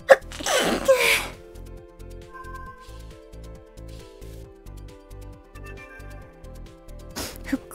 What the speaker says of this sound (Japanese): あ、くしゃみでしょ。